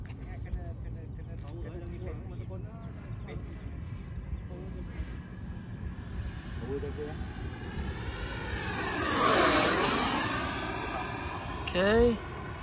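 An FMS F-18 Super Hornet 80mm EDF V2 RC jet on its maiden flight: a steady whooshing ducted-fan whine that swells into a loud close pass with a sweeping pitch change, then fades, with people talking over it.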